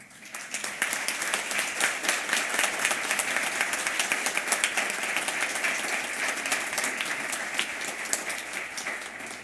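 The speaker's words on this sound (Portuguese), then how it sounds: "a Ele, nessa noite, nossas palmas" Sustained applause from the audience at a city council session, a dense steady wash of many hands clapping that rises quickly and holds for several seconds, close and loud.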